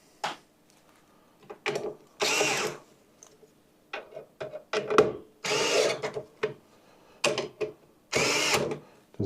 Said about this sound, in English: And I'm just going to screw everything down.